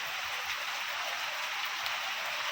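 Steady rain falling outdoors, a dense even hiss with scattered drop patter, continuous and moderately loud throughout with no voices.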